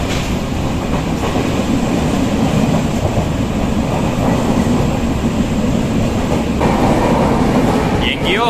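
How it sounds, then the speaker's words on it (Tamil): A passenger train rolls through Assam, heard from inside a second sitting coach: a steady loud rumble and clatter of wheels runs throughout, with a brief higher squeal near the end and faint voices underneath. "நான் வந்து செகண்ட் சிட்டிங் டைப் கோச்சில் தான் ட்ராவல் பண்ணிகிட்ருக்கேன்"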